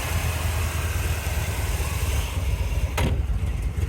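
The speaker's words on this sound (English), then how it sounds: "You just gotta turn this idle up." A 1967 Corvette L71 roadster's 427 big-block V8 idling: a steady, loud, throbbing low rumble that holds even throughout, with one brief click near the end.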